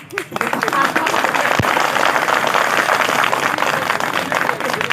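A large crowd claps hard and continuously, a loud, dense wash of applause that holds steady throughout after a brief quieter start.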